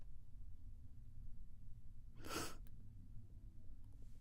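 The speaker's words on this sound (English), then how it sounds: "I'm going to sneeze." One loud, abrupt human sneeze bursts out close to the microphone over a steady low hum of room noise, with quiet breathing around it.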